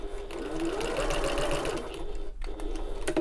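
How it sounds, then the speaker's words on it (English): A sewing machine runs steadily, stitching over two pressed-open seam allowances on a shoulder bag, a continuous close motor whir with a brief pause near the end before it resumes. "I'm just stitching"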